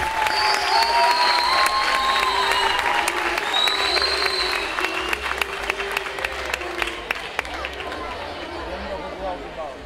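Audience at the Anglès proclamation ceremony applauding the outgoing hereu and pubilla: loud sustained clapping from a crowd, with cheers and whistles over it, gradually thinning toward the end.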